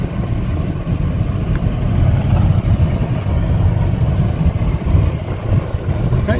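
A 2015 Chevrolet Malibu LS on a test drive gives a steady low rumble of engine and road noise from inside the cabin, continuous and fairly loud throughout.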